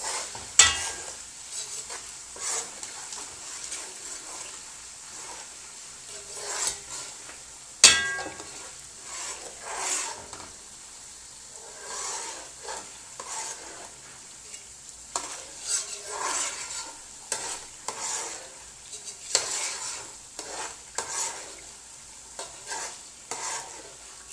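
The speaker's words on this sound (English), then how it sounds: "And allow this to fry for some minutes." Fish stew ingredients frying and being stirred in a pot, with steady sizzling and repeated scraping and clinking of a utensil against the pot, close and continuous.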